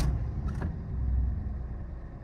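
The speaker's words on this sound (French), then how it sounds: "On entend le bruit du moteur." A Toyota Aygo 1.0 VVT-i 68 idles from inside the car, a low, steady rumbling engine hum with a brief mechanical clunk near the start and no voices.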